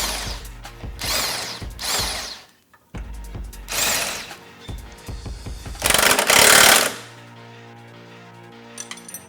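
A wrench ratchets a nut onto a bolt on a Polaris RZR XP1K radius rod, in loud repeated bursts of clicking separated by short pauses, then a longer grinding burst, with no talking.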